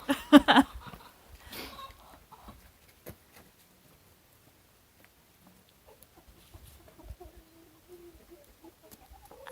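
Chickens cluck loudly at first, then softer scattered clucks and rustling follow in a quiet coop, with faint murmurs near the end.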